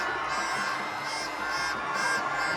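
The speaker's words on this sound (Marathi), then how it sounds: "आणि जल्लोष बघताय एकदम खतरनाक" Dense crowd roaring and whooping with children shouting, sustained and loud, as a tall ceremonial wooden pole, the Masoba devkathi, is raised upright at the Raybadevi Rave village festival.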